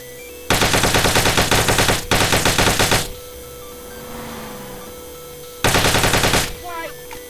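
Submachine gun fire from a GTA V sound pack modded into GTA San Andreas: two long rapid bursts back to back, a quiet gap with faint background noise, then a third burst, loud and close with no talk.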